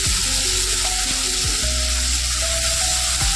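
Bitter gourd and pumpkin pieces sizzle steadily in a hot pan with a pinch of turmeric, a close, continuous frying crackle with occasional soft stirring scrapes and no talking.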